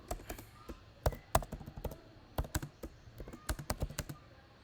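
Typing on a computer keyboard while writing CSS and HTML code: irregular bursts of close, crisp key clicks with short pauses between runs, no voice.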